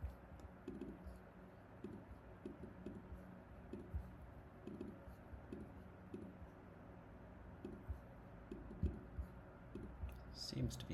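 Keyboard typing and mouse clicks at a computer while making posts in a web app, with soft irregular bursts of key taps and clicks, close but faint, under a low room hum with some quiet speech.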